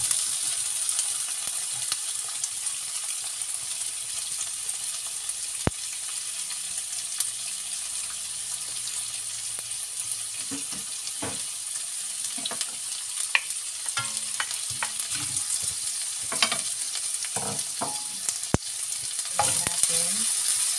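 Tofu fries in a pan with a constant close sizzle and hiss, joined partway through by scattered clicks and scrapes of stirring and turning the pieces.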